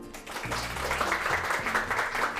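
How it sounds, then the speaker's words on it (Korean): Steady, dense applause from a lecture-show audience welcoming a magician speaker, with upbeat music playing underneath throughout. "큰 박수로 모셔볼게요"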